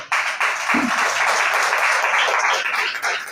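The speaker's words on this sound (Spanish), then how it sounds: "Yo creo que él se merece un aplauso en esta hora." A church congregation applauds at a Spanish-language devotional service, dense steady clapping filling the whole stretch, loud and close, with a brief low voice sound near the start.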